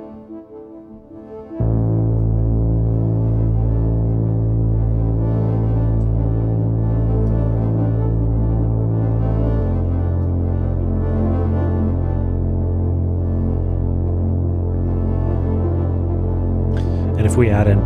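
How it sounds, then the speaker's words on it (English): Three synths layered together, one run through an instrument input with added grit, playing sustained droning chords that hold steady and shift to a lower pitch midway, loud and unaccompanied by talk. "So the synths all together, those three sound like this."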